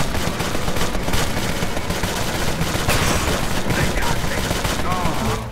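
Sustained machine gun suppressing fire from the video game Empire of Sin, a loud, dense and continuous burst of rapid shots lasting several seconds with no pause.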